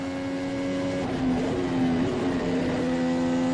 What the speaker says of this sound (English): Speaking of that third placed Aston Martin, this is the sound of Fernando Alonso.